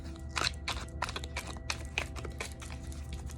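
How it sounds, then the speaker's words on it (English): Tarot cards being shuffled by hand, giving a string of soft, crisp riffling bursts at uneven intervals, close and quiet, with no talking. "Okay, I'm going to go ahead and shuffle here."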